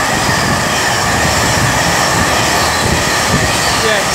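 Class 391 electric multiple unit 391.30 'City of Edinburgh' on a London Euston to Manchester service at Rugby on the West Coast Main Line, a loud steady rolling rumble of a train running close by, with no talk.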